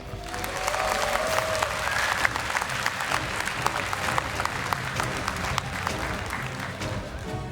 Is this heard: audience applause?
yes